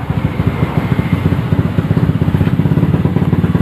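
A Honda Beat ESP scooter engine runs steadily at idle nearby, a loud, even put-put with a fast, regular pulsing throb and slight mechanical clatter throughout.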